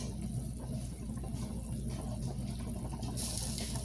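Water drains off cooked macaroni in a kitchen, a soft steady pouring trickle with a brief brighter gush near the end, fairly quiet and close.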